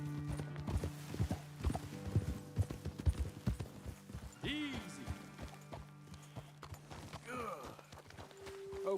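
Horse hooves clip-clop in Red Dead Redemption 2, a run of uneven, close hoofbeats that slow and fade, with a tonal game score humming underneath and a brief snort near the end.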